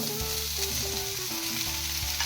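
Tapioca goes into a pan of frying onions for tapioca bonda, a dense loud sizzle with a few clunks and scrapes under steady hiss, up close and without voices.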